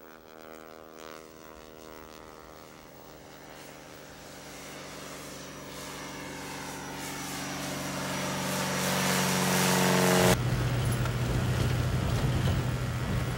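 A small propeller plane on skis, approaching to land on snow in Alaska, its engine drone growing steadily louder and nearer over about ten seconds before shifting to a rougher, closer roar.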